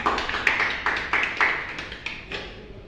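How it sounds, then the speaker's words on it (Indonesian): A small group of students clapping in an Indonesian classroom micro-teaching lesson on capacitors, with uneven scattered claps at close range that thin out and fade over about three seconds. "Tepuk tangan buat kita semua."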